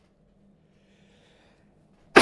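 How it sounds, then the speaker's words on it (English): A single sudden, loud sneeze from a man bursts out at the very end after near silence with a faint low hum. "I'm gonna sneeze."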